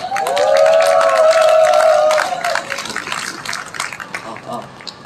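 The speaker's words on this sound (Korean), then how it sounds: "큰 박수 부탁드립니다." An outdoor crowd at a climate justice rally in Daejeon claps and cheers. A loud sustained shout rings out over the opening applause before the clapping thins into scattered, fading hand claps.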